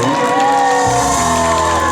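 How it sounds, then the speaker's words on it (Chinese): Concert crowd at an outdoor evening song show by Xiqi Bridge, a loud burst of cheering, whooping and shouting that swells and holds, with musical tones from the stage mixed in. "给自己掌声加尖叫声"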